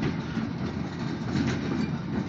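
An OC&T Alco S-2 locomotive, number 75, runs light back toward the Perry Street Station, a loud, steady rumble of diesel and wheels passing close by with no voices.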